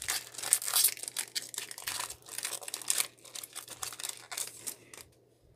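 A Pokémon card pack being ripped open, with a series of sharp crinkling, tearing foil sounds in irregular bursts close to the mic, tapering off quietly toward the end, with no talk.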